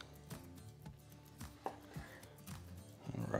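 A knife cutting slices from a rested smoked pork tenderloin off a Ninja Woodfire outdoor grill, several soft chopping strokes against a board, close and quiet with no voices.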